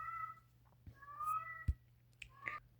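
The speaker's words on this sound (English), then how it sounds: "one of my cats was whining. In the background." A cat whines and meows several times in a quiet indoor room, soft drawn-out cries with short pauses between them and one sharp knock partway through, faint and somewhat distant, with no one talking.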